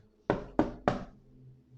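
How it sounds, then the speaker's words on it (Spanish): Three firm knocks on a house door at a doctor's home on the cliffs, evenly spaced and close, followed by quiet. "El agente golpeó la puerta"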